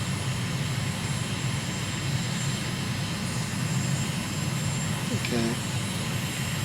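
Aircraft engine drones steadily through a slow, drawn-out landing descent over Cephalonia in Microsoft Flight Simulator, a broad continuous hum with a brief tonal warble near the end and a voice speaking briefly over it.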